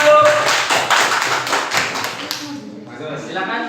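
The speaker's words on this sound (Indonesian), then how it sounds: "Oke, tepuk tangan buat kelompok 1." Applause from a classroom of students for the first group after their presentation in a school environmental project session, a dense burst of clapping and taps that fades after about two and a half seconds into quieter room noise.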